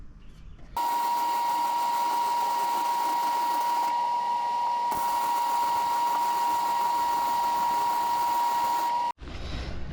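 Exhaust headers on a 1992 Chevy C1500 with an LS1 swap are welded, giving one continuous steady buzzing hiss that runs for about eight seconds and then cuts off abruptly.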